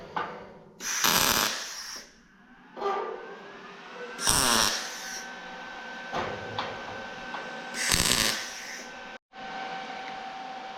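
A bunker staircase is welded in three separate bursts, each a loud, close buzzing crackle lasting about a second. Quieter mechanical hum and clatter fill the gaps between them.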